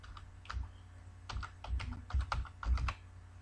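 A user name and company name typed on a computer keyboard, quick irregular clusters of close key taps that pick up pace toward the end, with no voice.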